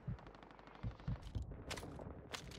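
Gunfire in Warzone 2 on the Vondel map, faint and distant, a few scattered shots and short rattling bursts over a low background murmur.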